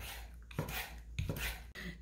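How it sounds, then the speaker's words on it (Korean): Thick pieces of squid being cut with a knife on a cutting board, with a few separate slicing strokes, close and moderately quiet, and no talking. "저는 오징어를 이렇게 굵직굵직하게 썰어요"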